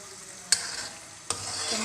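A spoon stirs chicken karahi frying in oil with tomatoes in a pan, making close scraping strokes over a steady sizzle.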